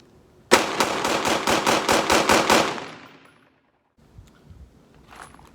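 A Glock 17C pistol fired from 7 yards: a rapid string of about nine loud, sharp shots in quick succession, followed by silence and faint handling noise.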